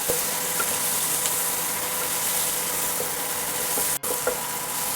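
Chopped medium tomato sizzling with onion in a frying pan, a steady soft hiss of frying with faint stirring clicks and one brief break near the end.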